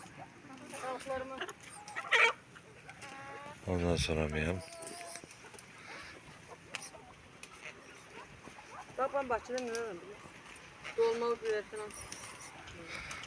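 Chickens cluck and squawk at close range while people talk over them, with a few louder bursts of clucking breaking through.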